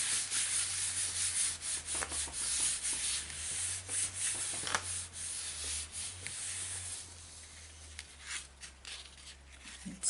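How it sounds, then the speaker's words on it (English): Paper being rubbed down by hand onto a handmade card, a steady close scraping swish that runs continuously with short pauses, alone without talk. "So I'm just going to turn it over and just rub it down."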